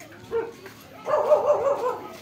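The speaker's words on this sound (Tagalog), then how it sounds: "Oh, ayun, may aso." A dog near a rental house barks and yips from a moderate distance, one short bark followed by a longer, busier stretch of barking under light background noise.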